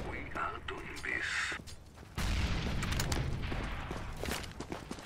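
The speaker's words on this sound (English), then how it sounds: "Deploying flashbang." In Counter-Strike: Global Offensive on the Dust2 map, mechanical clicks lead into a sudden, loud flashbang grenade blast, followed by a sustained ringing roar with clatter, while voices call out in the game.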